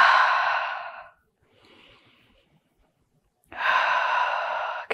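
Deep, slow breaths during a yoga class, two long airy exhalations with a quiet pause between them, close and clear with no talking.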